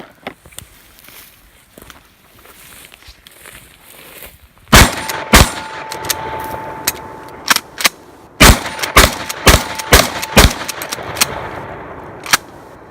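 Shotgun firing Winchester Super X 4-shot shells, loud sharp blasts in an irregular string of about nine shots after a quiet stretch, with ringing metallic clatter and action cycling between them.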